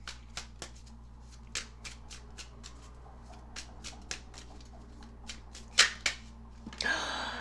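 Tarot cards are handled and shuffled close up in a quiet room, with sharp intermittent snaps and flicks. A final card is drawn with a brief burst of rapid riffling at the end.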